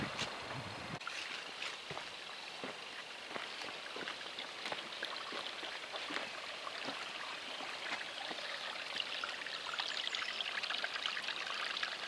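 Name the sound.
flowing water of a brook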